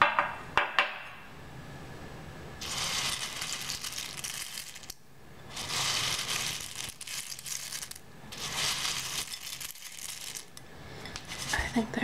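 Sunflower seeds are poured into a ceramic bowl in three separate bursts of bright, hissing patter, with short quiet gaps and a few clicks at the start.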